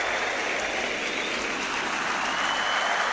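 A football crowd at an Aberdeen v Ipswich Town UEFA Cup match applauds steadily, a broad, sustained wash of clapping that stays level for the whole stretch with no clear voices above it.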